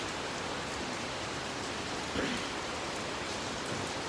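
Rain begins falling, a steady, even hiss of drops spread across the whole clip with no pauses and no voices.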